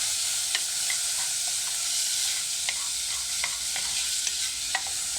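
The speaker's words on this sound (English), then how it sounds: "And I'm going to give it a good stir." Poha with green peas is stirred in a hot pan, soft scraping strokes at an irregular rhythm over a constant gentle sizzle, close and fairly quiet with no talking.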